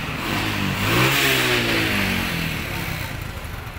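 An ALS intercity bus with a Mercedes-Benz OH 1521 engine accelerates nearby. The engine note rises and strains with a rumbling, climbing tone, then eases off as it moves past.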